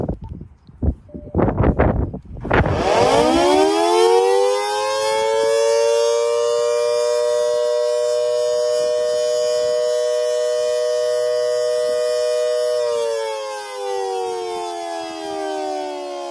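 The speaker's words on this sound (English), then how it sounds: "Let's go back to the Federal Signal Model 2T that I have, and let's see how loud that was at 15 feet." A Federal Signal Model 2T siren sounding outdoors at 15 feet for a decibel test. After a few brief knocks it winds up into a loud, steady, sustained wail and holds for about ten seconds, then slightly drops in pitch near the end.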